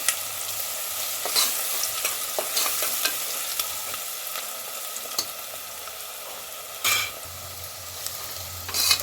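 Onions frying for mutton curry as turmeric is stirred in, a steady soft sizzle with scattered spoon scrapes and a few louder clanks against the pan.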